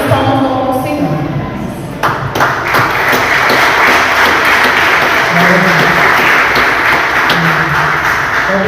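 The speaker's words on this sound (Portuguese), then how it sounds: "e as palmas vão ao Senhor." A church congregation at an OBPC service in Botucatu breaks into loud, sustained applause, dense clapping filling the room after a brief lead-in with a voice and a few sharp taps.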